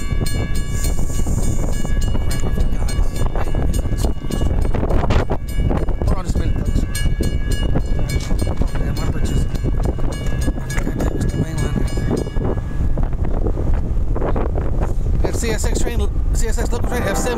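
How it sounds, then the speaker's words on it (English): CSX local freight train F761, led by CSX locomotive 5282, rolls loudly and steadily past on the Monroe Subdivision at Chester, South Carolina, with a horn blast early and heavy rumbling, clanking cars throughout. "CSX local train F761 coming southbound on a CSX Monroe Subdivision at Landrum, Chester, South Carolina."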